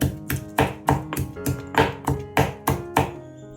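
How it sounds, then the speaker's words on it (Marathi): Fresh garlic, coriander, ginger and green chili are pounded in a mortar and pestle, giving a steady run of about ten sharp, close thuds at an even rhythm, with no talking. "खलबत्त्यामध्ये जे आपण ताजं लसूण कोथिंबीर आलं आणि मिरची घेतली आहे"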